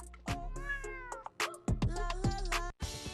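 A cat meows several times in a row, close by. The meows are drawn-out and wavering with short gaps between them, and nobody is talking.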